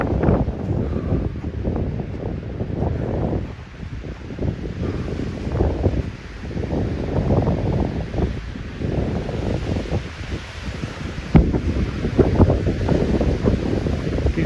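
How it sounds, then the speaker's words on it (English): Gusty wind roars across the microphone in uneven surges along a hiking trail to a lake, loud and continuous throughout with no voices. "You're getting windier again"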